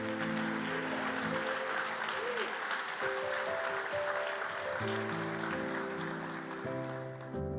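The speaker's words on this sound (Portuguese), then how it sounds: "Se você crê nisso, aplauda ao Senhor." A church congregation claps together in a sustained wash of applause that holds for several seconds, blended with soft ongoing music.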